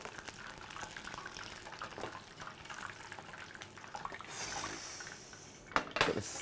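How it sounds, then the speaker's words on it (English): Chicken wings fry in hot oil for spicy buffalo wings, giving a steady, close hiss and fizz of bubbling fat with a few sharper crackles near the end. "Get the skin crispy, it's bubbling."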